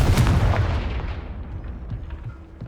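A Confringo fire spell blast in the video game Hogwarts Legacy: a loud, heavy boom that bursts at once and then rumbles away over a couple of seconds.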